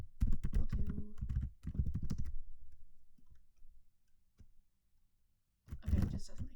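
Typing on a computer keyboard, quick clicking keystrokes in rapid runs with short pauses, close and fairly clear, while a person talks over parts of it.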